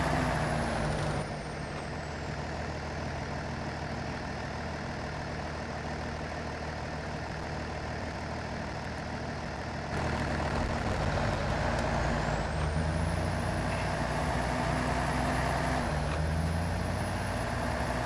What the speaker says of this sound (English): You can hear that damn thing, that truck of yours whistling. Hear that turbo in it.